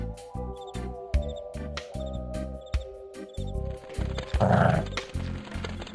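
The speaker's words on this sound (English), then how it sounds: "That darn dog is guarding his neighborhood." Ruffo, a guard dog in the point-and-click game DarkestVille Castle, barks in repeated loud, evenly spaced bursts over a steady musical background, with a brief rising growl or yelp near the end.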